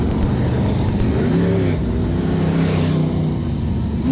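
Sprint cars roar around Cairns Speedway in a steady, loud, continuous engine drone that rises and falls as the pack circulates, with no voices over it.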